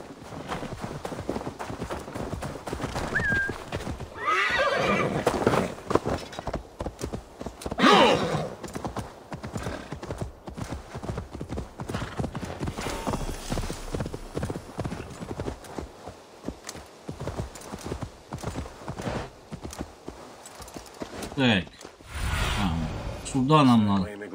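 Hooves clip-clop at a run with occasional neighing from a horse in the video game Assassin's Creed Valhalla, during the siege of Paris, mixed with game sounds while someone talks over it.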